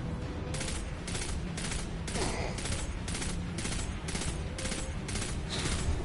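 Sustained automatic gunfire from the Destiny 2 shooter, a dense run of rapid bursts pulsing roughly every half second at steady loudness, with no one talking.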